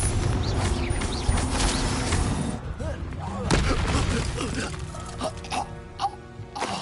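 Confringo, a fiery explosive spell, bursts during combat in Hogwarts Legacy: loud booming blasts repeat over dense, busy game noise with grunt-like effects, and no one speaks.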